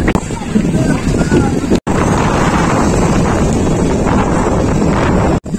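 Strong wind at Patenga sea beach roars and buffets the microphone in a loud, continuous rush, with rough sea water and ships nearby and two brief dropouts.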